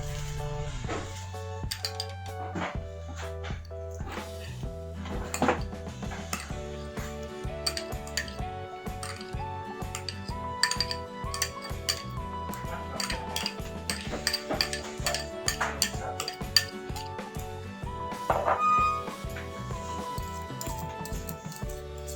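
A utensil stirs 200 grams each of Anchor butter and Blue Band margarine in a bowl for nastar dough. It makes a rhythmic scraping and clinking against the bowl that repeats steadily and close up, with soft thumps throughout.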